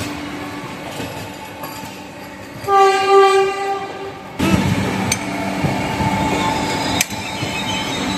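The Tamralipta Express (12857) leaves Howrah station amid a steady rail-yard rumble. Midway, a loud horn blast sounds, followed by louder wheel noise and clanking carriages.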